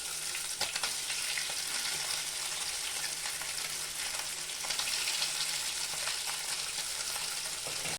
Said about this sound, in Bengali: এইভাবে সব চিকেন কটা ভেজে নেব।